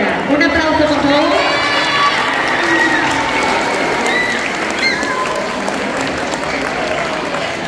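Sustained, loud applause fills a school event hall as the audience claps for a teacher, with shouts and children's cheering voices rising over the steady clatter of hands.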